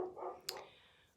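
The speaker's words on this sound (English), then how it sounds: "sorry, the dog's next door." A neighbouring dog next door gives a single short bark, faint and distant, in a quiet indoor room.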